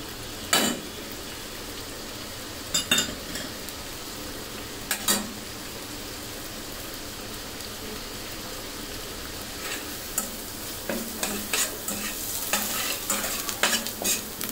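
Spice masala for Punjabi-style chicken stirred and roasted in a pan with a little added water, steady frying sizzle punctuated by scraping spoon strokes, a few sharp bursts early and more frequent stirring near the end.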